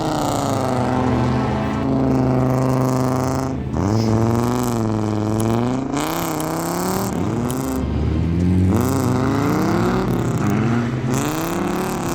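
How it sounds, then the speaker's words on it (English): A car's exhaust roars loud and close for the whole stretch, its pitch climbing and falling through repeated revs and gear changes, with no talk over it. "And that exhaust note, absolute eargasm."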